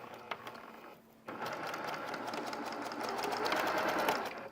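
Sewing machine stitching bias-cut quilt pieces, a fast steady mechanical whir that briefly pauses, then resumes and runs continuously, close and moderately loud, with no talking.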